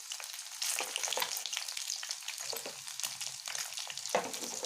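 Sliced egg pakoras fry in hot oil with a steady, bright sizzle and crackle, occasional louder pops and spatters standing out, with no voices.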